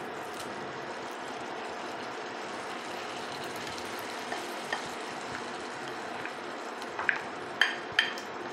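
Mutton keema frying in a pan, a steady loud sizzle running throughout with a few sharp clinks of a utensil against the pan near the end.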